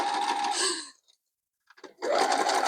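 Whirring sewing machine stitching a quilt block in two short bursts with a brief pause between, close and fairly loud.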